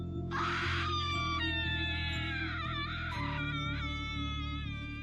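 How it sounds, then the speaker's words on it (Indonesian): A woman's fearful scream rises sharply and holds as a long, high, wavering cry in a horror story, layered over a steady low, droning music bed. "Suatu malam, Anissa berteriak ketakutan dari kamarnya."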